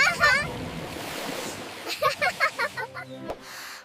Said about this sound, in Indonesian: Cipratan air.